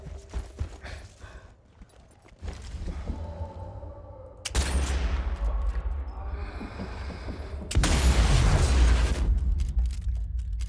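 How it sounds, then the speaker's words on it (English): Explosions in the video game Sniper Elite 4, two loud booming blasts that arrive a few seconds apart, each followed by a rumbling tail, with someone talking and game sounds in between. "They're blowing themselves up."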